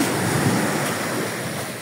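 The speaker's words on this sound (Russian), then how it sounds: "Ветер вообще ледяной, дует уже второй день с моря" Icy wind blowing in steadily off the sea on a coastal walk in May, a continuous close, loud broadband rush with gusting mic buffeting and no voices.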